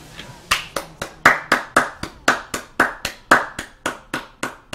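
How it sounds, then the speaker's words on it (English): A single person claps his hands close to the microphone at a brisk, fairly even pace, about a dozen sharp, distinct smacks in a row with brief gaps between them and no talking over them. "I am clapping right now because I'm blown away."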